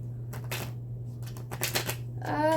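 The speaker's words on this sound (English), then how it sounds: "Let's do one more shuffle." Tarot cards being shuffled during a reading, several quick papery riffles and flutters close up, with a brief voice near the end.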